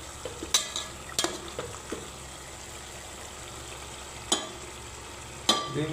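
Chicken curry masala being sautéed in a pan, a soft steady sizzle punctuated by a few sharp metallic clacks of the spoon against the pan, close and alone without talk.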